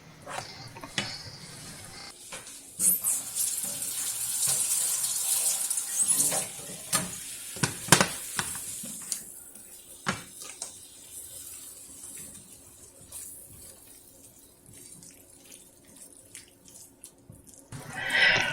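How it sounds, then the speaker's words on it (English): Water pours and splashes in bursts as cooked pasta is strained in a kitchen, with loud gushing surges followed by quieter trickling and dripping. "it's time to strain out your pasta"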